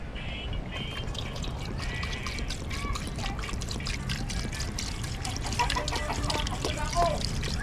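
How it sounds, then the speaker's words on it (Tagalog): Drinking water pours into a cooking pot of sautéed onion, garlic and grouper, a steady trickling splash that runs for several seconds up close under a cooking sizzle. "Talagdagan ng tubig na inuman."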